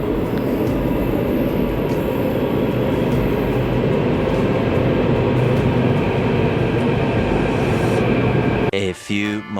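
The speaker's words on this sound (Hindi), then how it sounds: "अभी हमारी ट्रेन को आने में 2 मिनट्स हैं।" A train rolls through a railway station close by with a loud, continuous rumble and rattle of wagons that cuts off abruptly near the end.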